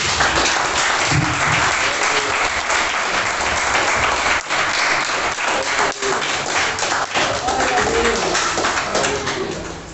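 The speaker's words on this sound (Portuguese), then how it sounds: "vamos aplaudir o Senhor Jesus" Sustained applause from a large church congregation fills the whole stretch, dense and steady clapping with brief dips, loud and close.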